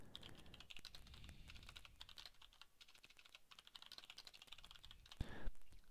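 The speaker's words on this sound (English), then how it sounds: "Let me just type some message in here." Quick, quiet typing on a computer keyboard, a continuous run of light clicking keystrokes, with a slightly louder burst near the end and no speech.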